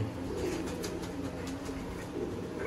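Sialkoti pigeons cooing in a loft, soft repeated throaty coos close by, fairly quiet against light background noise.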